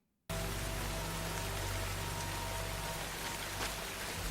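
Heavy rain pours in a Pacific war drama scene set on a Pacific island, starting abruptly and then hissing steadily and loud with no voices.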